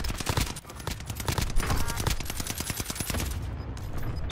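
Gunfire during a Warzone match on Fortune's Keep: rapid, evenly spaced shots crack in a dense, loud stream throughout, thinning slightly toward the end.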